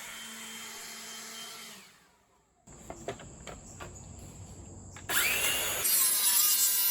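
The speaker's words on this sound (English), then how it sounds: "I use a Craig track saw attachment with my Makita saw." A Makita circular saw fitted with a Kreg track saw attachment cuts through plywood. A soft rasp fades to near silence, then comes a few sharp knocks and a steady whine, and finally a loud, bright cutting roar.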